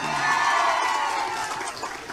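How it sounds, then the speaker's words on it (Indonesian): An audience at a religious gathering cheers and applauds for a singer, a broad, dense roar of clapping and voices that holds steady and then eases slightly. "Tepuk tangan untuk Charlie."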